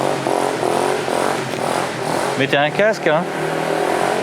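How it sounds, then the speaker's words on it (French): A supermoto motorcycle revving nearby in short, sharp bursts of rising engine pitch around midway, over a background engine drone, with a person talking briefly. "Petit frère qui fait le malin, il a son petit super motard là."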